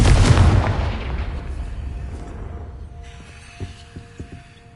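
A Confringo fire spell from Hogwarts Legacy goes off as a loud explosive blast right at the start, its boom rolling and decaying over several seconds, followed by a few faint thuds in a quiet room.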